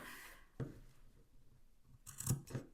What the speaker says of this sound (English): put some little snips around the bends